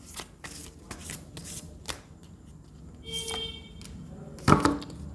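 Tarot cards are shuffled and drawn by hand in a quiet room: a series of soft papery riffles and taps, then a brighter rustle and a firm slap near the end, close and fairly faint, with no talking.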